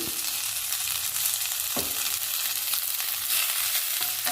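Ajwain leaves fry in a hot pan with a steady sizzle throughout, and a few soft scrapes from stirring come through close by. No one speaks.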